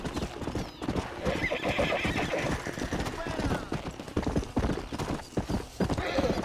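Horse hooves clip-clop and a horse neighs in the video game Red Dead Redemption, steady and fairly loud throughout, with a voice talking over the game sounds.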